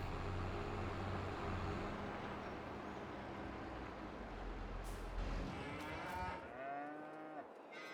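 Cattle mooing in Farming Simulator 22 on a game farm, a steady stream of low bellowing moos from several cows over a constant engine-like rumble, with one clearer drawn-out moo near the end.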